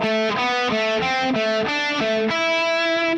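A distorted electric guitar plays a short run of notes that climb step by step, each note sustained and buzzing, ending on a held tone.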